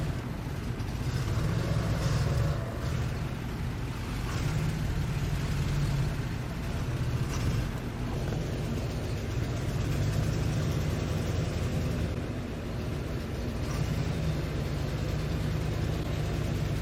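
An old OBS Ford F250, left sitting for a decade, rolls along with a steady low rumble and drone, a constant close heavy-vehicle hum with no clear talk.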